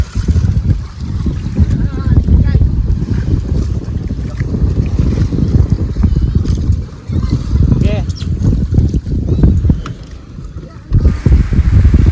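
Strong wind buffets the microphone over churning water and waves slapping around a motor boat, a constant loud roar throughout.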